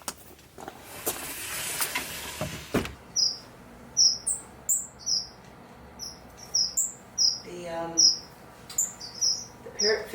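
Thirteen-day-old parrot finch chicks chirp in a wintery aviary, a steady series of short, high, bright cheeps repeating every half second or so after a few seconds of rustling.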